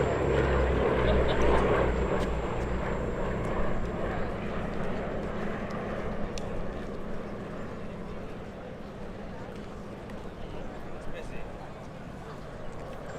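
Two Westland Lysander aircraft with Bristol Mercury radial engines fly past at the Duxford airshow, a broad rumbling propeller drone that slowly fades as they pass, with a commentator talking over the top.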